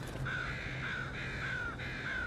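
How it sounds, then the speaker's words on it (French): A crow gives repeated harsh alarm caws over a dead crow, four drawn-out calls in a steady rhythm, clear and moderately close against a faint background. "Lorsqu'une corneille découvre une corneille morte, l'oiseau lance un cri d'alerte."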